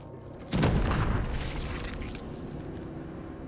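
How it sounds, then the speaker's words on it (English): A booming explosion in the video game Wasteland 3 erupts suddenly after a brief quiet moment, then a loud rumbling roar slowly fades into steady background ambience. "An explosion."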